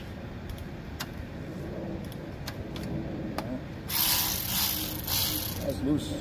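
A ratchet works loose a sway bar link bolt on a 2007 Chevy Impala, a rapid series of sharp metallic clicks, then a louder burst of whirring and clattering as the bolt is spun out.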